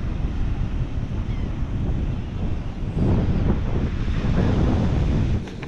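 Ocean waves wash onto the Isle of Palms beach near Charleston under steady wind buffeting the microphone, a continuous loud rushing roar that swells slightly partway through.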